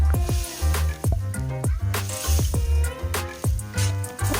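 Water is added to a squid stir fry with spices in a hot pan and brought to a boil, giving close, uneven sizzling with repeated wet squishes and pops.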